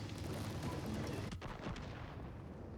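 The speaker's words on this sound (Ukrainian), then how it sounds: "Постріл." A tank cannon fires once in the video game World of Tanks, a muffled boom at moderate level set against steady game ambience and engine rumble.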